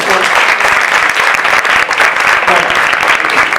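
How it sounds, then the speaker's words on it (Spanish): An audience at a talk on amphibian and reptile photography claps loudly and continuously, a dense, close wash of applause lasting throughout. "un aplauso para nosotros"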